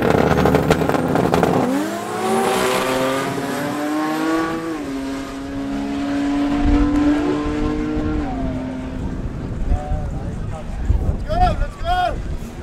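Toyota Hilux drag racing down the strip at a national drag challenge, its engine note rising and sweeping through gears loudly as it accelerates, with wind noise and a commentator talking over the pass.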